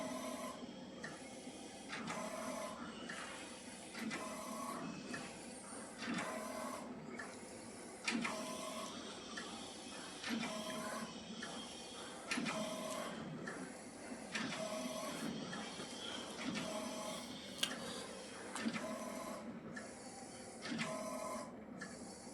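A printer runs a test print, its carriage sliding back and forth in regular passes with short whirring strokes and brief pauses, close and steady, no voices.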